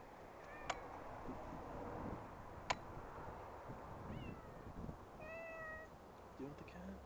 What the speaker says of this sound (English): Wow, that's a big cat.